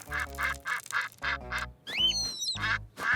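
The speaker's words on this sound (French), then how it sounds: "Oh, les canards sont de retour." Cartoon ducks quack in a series of loud, close, nasal calls, several in rhythmic succession with a brief squeaky whistle among them.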